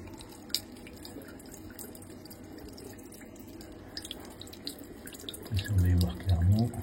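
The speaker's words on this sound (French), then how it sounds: "on a un filet d'eau permanent pour travailler, pour rincer" A thin, steady trickle of running water flows for rinsing during a limescale-scraping job. It is soft and continuous, with faint drips, and a low voice murmurs near the end.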